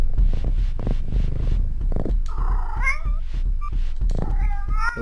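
A cat meows several times in a video game, its rising and falling calls heard clearly between bursts of other game sounds and a low rumble.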